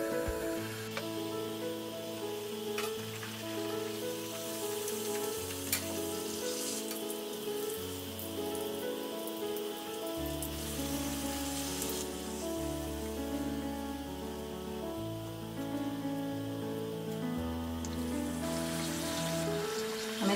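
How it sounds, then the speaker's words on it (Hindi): Small puris for pani puri deep-frying in a kadhai of hot oil, a continuous fine bubbling crackle close by that holds steady throughout, with a low tonal hum running beneath it. "कढ़ाई में हमने तेल गरम कर लिया है। हम एक पूरी फ्राई करके देखेंगे।"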